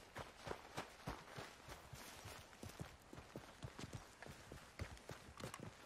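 Horse hooves in Red Dead Redemption 2 clop in a steady, repeated rhythm as the animal approaches, a run of sharp, fairly close thuds with no talk over them.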